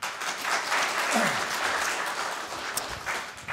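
An audience applauds at a policy forum on spinal cord injury rehabilitation, dense sustained clapping that fills the room evenly before tapering slightly at the end.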